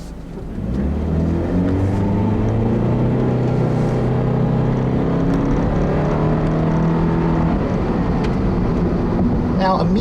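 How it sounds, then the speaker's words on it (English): A 2014 Subaru Impreza with a 2-liter engine and CVT drives with a steady engine drone, its pitch climbing smoothly under acceleration, close and continuous after a quieter first second. "this is my first time driving just the regular Impreza with the 2-liter and the Lineartronic CVT."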